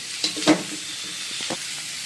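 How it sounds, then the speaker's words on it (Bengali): Onions fry in a pan until reddish, giving a close, soft sizzle with a few quick stirring scrapes near the start and a lighter one later. "পেঁয়াজটা ভেজে নিচ্ছি, লাল লাল হয়ে গেছে"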